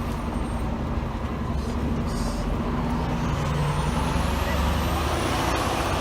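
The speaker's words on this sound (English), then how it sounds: "Getting on to these buses." Buses at an evacuation shuttle point on the street near Mandalay Bay idle with a loud, continuous diesel rumble, a hiss of air brakes adding to the steady heavy traffic noise.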